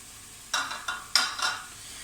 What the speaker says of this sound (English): they're going to fry off for another 4 or 5 minutes until the onions are nice and translucent